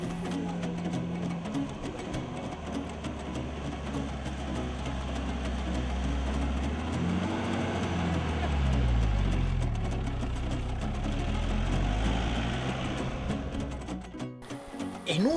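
A 4x4 engine labours and revs up and down on a narrow track of very fine sand, a steady close drone with rising and falling pitch and some background chatter.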